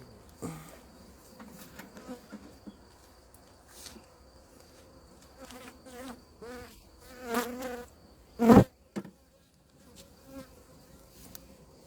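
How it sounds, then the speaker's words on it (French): Honeybees buzz softly and intermittently at a hive during a hive transfer, several passing close with rising and fading drones, plus a sharp loud thump near the end. "Alors ça va bien là parce qu'il y a beaucoup d'abeilles."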